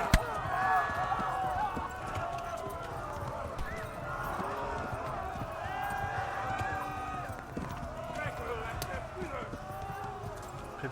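Horse hooves galloping in the medieval game Kingdom Come: Deliverance, a steady rapid clip-clop running through the whole stretch over game music and ambience, with a voice talking over it.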